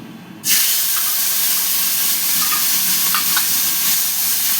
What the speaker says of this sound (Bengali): এবার আমি এতে এই যে চিংড়ি মাছগুলো যে আমি নুন হলুদ মাখিয়ে রেখেছিলাম, এটা দিয়ে দিচ্ছি।